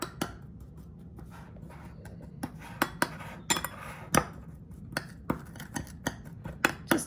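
A utensil scrapes and clinks against a dish as melted butter is stirred into brown sugar, giving a string of sharp taps and scrapes over quiet kitchen background.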